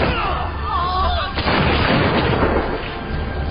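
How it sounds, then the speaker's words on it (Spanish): A volley of Brown Bess musket fire from British troops against colonists in the American War of Independence, a sharp loud crack followed by rolling, crackling gunfire and rumble over dramatic music. "Preparan sus fusiles Broadheads y disparan contra los colonos."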